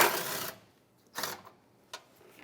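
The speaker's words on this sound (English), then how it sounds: "With a 12mm socket, we're going to take out this bolt." A 12mm socket wrench works a bolt loose on a Hyundai Elantra during starter replacement, giving a burst of ratcheting clicks followed by a shorter ratchet run and a couple of faint metallic taps, up close and otherwise quiet.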